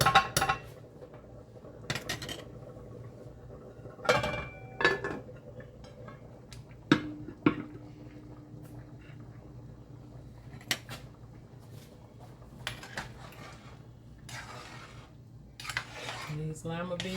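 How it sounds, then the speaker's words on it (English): Lima beans and sausage stirred in a pot on a home kitchen stove, a spoon scraping and clinking against the metal in sporadic bursts over a low steady hum. "Don't just stir the top of the beans, because you don't want your beans to be sticking"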